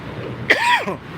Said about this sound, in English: I'm coughing, I'm so sorry.